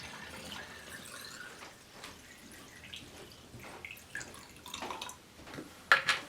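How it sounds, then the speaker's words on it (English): Film developer liquid pours and splashes into a small film developing canister, with drips and trickles rising toward the end, close by and fairly quiet. "pour the developer straight into my canister where my film is"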